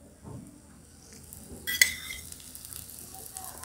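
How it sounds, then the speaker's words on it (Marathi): Oil poured onto a besan pola, a gram flour pancake, cooking in a pan gives a quiet, steady sizzle, with a brief louder crackle and a faint clink of utensils partway through. "त्याच्यावरती आपण तेल सोडायचं।"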